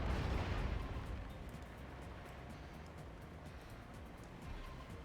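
Gunfire from units in an Act of Aggression battle: a dense, rumbling barrage with scattered cracks, loudest at the start and then holding steady without voices.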